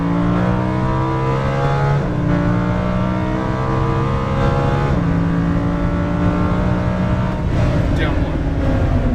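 Lamborghini Huracan LP610-4 on a track, engine note climbing through repeated upshifts as it accelerates hard, loud and close, with an instructor talking over it.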